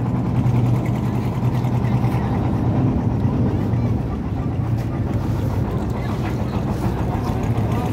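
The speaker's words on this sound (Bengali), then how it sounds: "এই যে নৌকা" A boat's engine drones low and steady on the water at a ferry ghat, a continuous rumble heard up close with people talking over it.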